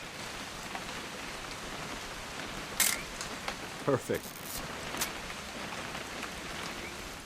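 Soft, steady rain falls in the PS5 video game What Remains of Edith Finch, a quiet wash of drizzle with a few sharp clicks and a brief spoken word over it.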